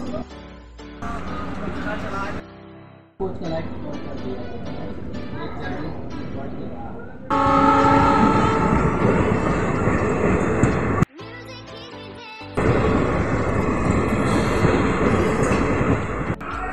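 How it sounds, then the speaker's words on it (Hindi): A DEMU local passenger train pulling out of Gangadham railway station rumbles steadily from on board, its loud diesel drone and rattling carriages rising as it gathers speed, with abrupt level changes along the way. "फाइनली दो मिनट हॉल्ट के बाद अपनी ट्रेन निकल चुकी है"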